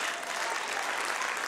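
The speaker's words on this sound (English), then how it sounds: "I want you to clap your hands like it's already done." A church congregation claps together in dense, steady applause that sounds broad and moderately distant, continuous throughout with no gaps.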